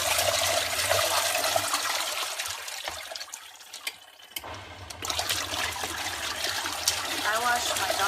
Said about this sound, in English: I'm going to do a rinse cycle, so I don't have any soap. And it splashes a lot.